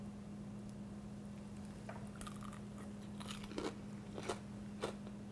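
Crisp bites and crunchy chewing into a fried chicken breast cutlet with a crust dipped in sriracha sauce, several sharp crunches clustered near the end over a steady low hum.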